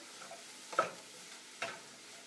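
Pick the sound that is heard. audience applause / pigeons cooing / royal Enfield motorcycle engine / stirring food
stirring food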